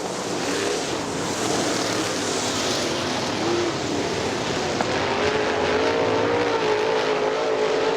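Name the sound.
late model race cars racing at Butler Motor Speedway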